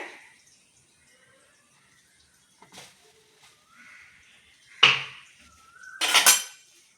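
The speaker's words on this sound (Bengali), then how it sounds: "ময়দা দিয়ে ভালো করে এটা মাখিয়ে নেব।" Flour is mixed into boiled milk with sugar and salt in a pan, giving sparse scrapes and soft clinks of a utensil against metal, with a couple of louder knocks and scrapes toward the end, close and otherwise quiet.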